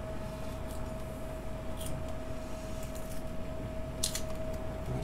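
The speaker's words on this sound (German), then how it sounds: "Der scheiß Rauschen, was ihr hört, ist der Lüfter von der Xbox." An Xbox 360 console's cooling fan gives off a steady broadband hiss with a faint constant whine, close and unchanging, with a few small clicks and no speech.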